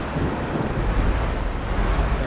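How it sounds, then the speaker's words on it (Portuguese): Rain pours steadily in Euro Truck Simulator 2 on a Brazilian map, a dense, even hiss of falling water with a low rumbling undertone and no voices. "Tá caindo chuva,"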